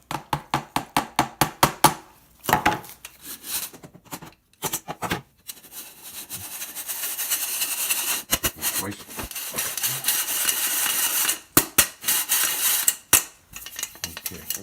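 Flour and baking powder are cranked through a hand sifter for brownies, producing rapid rhythmic clicking and rasping bursts, then a longer stretch of continuous scratchy grinding broken by brief pauses and sharp ticks.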